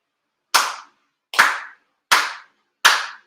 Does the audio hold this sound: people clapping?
yes